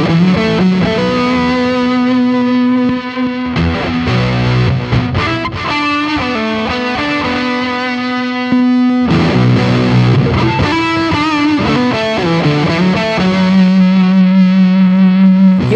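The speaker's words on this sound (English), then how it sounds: "made me a believer in the glory of a fuzz pedal" Electric guitar played through a fuzz pedal and overdrive rings out loud and saturated, sustained distorted chords and melodic lines with a thick effected tone and a short gap midway, with no voice.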